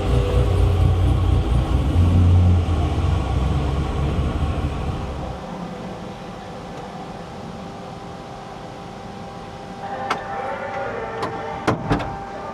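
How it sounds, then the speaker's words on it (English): Truck pulled into a shop, a low rumbling engine and rolling noise that is loud at first then settles to a quieter hum, with a few sharp clicks or knocks near the end. "So we're gonna bring Manny's truck over and put it where Marlon's truck is"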